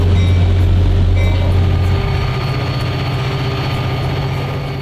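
A loud, steady rumble of Iowa Pacific's Hoosier State passenger train, running between Chicago and Indianapolis, at Lafayette, with a low engine drone and faint high whine, gradually easing off toward the end.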